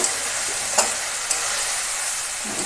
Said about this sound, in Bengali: মাংসটা ভালো করে কষিয়ে রয়েছে আর আমি কিছু আস্ত রসুন দিয়ে দেবো